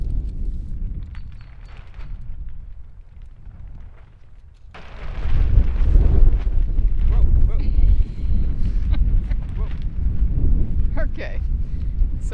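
Strong wind blows outdoors at a hoop house build site, rumbling and buffeting the microphone, softer at first and then surging into a loud, sustained roar with some talk mixed in.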